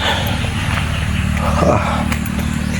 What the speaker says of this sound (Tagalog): Ang mga motor.